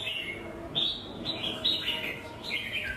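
A caged songbird gives a series of short, bright chirps, several clustered calls repeating at moderate loudness over a steady low background hum, with no talking.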